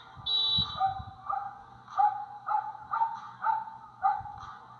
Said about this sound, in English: A smart and protective dog barking at cars to keep them away from the crossing.